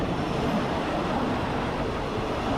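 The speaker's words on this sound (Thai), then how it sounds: "รถไฟ ขบวนนี้ก็จะวิ่งเข้าไปที่สถานีธนบุรีนะ" Steady low rumble of a train rolling past on the southern railway line near Thonburi station, Bangkok, a dense continuous roar without breaks.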